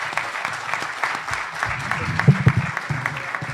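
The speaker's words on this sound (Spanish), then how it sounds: "espero ahora tener un aplauso igual que el principio" An audience applauds after a talk, a steady spread of clapping from a moderate crowd with some voices and low murmuring mixed underneath.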